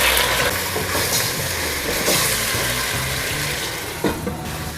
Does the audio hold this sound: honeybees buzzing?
no